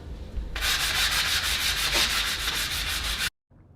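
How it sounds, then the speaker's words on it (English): Steady, gritty rasp of hand sanding on a brick fireplace, with fast rhythmic back-and-forth strokes for about three seconds, then it stops abruptly. "we're back to hand sanding"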